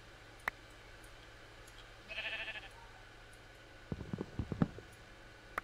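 A Minecraft sheep bleats once in a short wavering call, fairly faint, followed by a few soft clicks and thumps of in-game activity against a quiet background.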